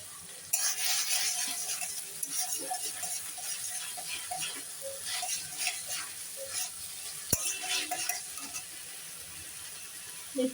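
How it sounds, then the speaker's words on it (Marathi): Fried rice is stirred in a pan after red and green chilli sauces go in, giving a steady close sizzle with repeated scraping and clinks of the utensil throughout. "तर हे सगळे सॉस टाकून चांगलं हलवून घ्यायचं आहे"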